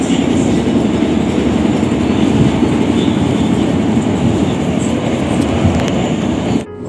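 A passenger train rolls steadily along the rails past a station, its loud, continuous rumble and clatter holding even from start to finish before cutting off abruptly at the very end.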